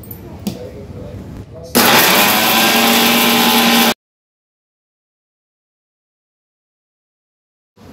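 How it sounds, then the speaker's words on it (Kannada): A kitchen mixer grinder whirs loudly for about two seconds as it grinds dried red chillies in its jar, then stops abruptly into silence. Quieter handling sounds come before it. "ಈಗ ಮಿಕ್ಸಿ ಜಾರಲ್ಲಿ ಒಣಮೆಣಸಿನ್ಕಾಯಿ ಹಾಕ್ಕೊಂಡಿದ್ದೀನಿ, 1 ರೌಂಡ್ ಮಿಕ್ಸಿ ಮಾಡ್ಕೊತೀನಿ ಫಸ್ಟು"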